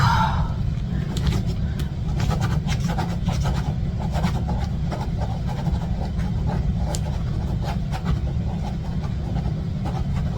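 Car driving off after a set of gates opens, with a steady low road rumble and engine drone throughout, plus scattered rattles and rubbing knocks inside the cabin, under faint background voices.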